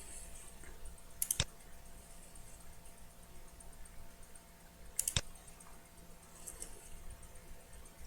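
Two crisp, sharp computer mouse clicks, about four seconds apart, stand out against a quiet background hiss.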